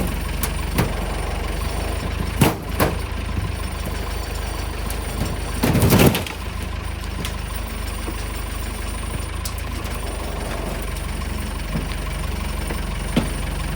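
A vehicle engine idles steadily throughout, with a brief louder clatter near the middle as a bucket tips material into a trailer, close and unaccompanied by talk.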